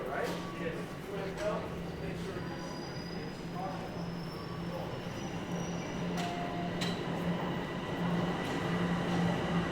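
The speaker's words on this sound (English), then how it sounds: "I hear a train rolling in." A northbound subway train rolls into a station in Toronto with a steady rumble, rattling and high wheel squeals, fairly distant and continuous.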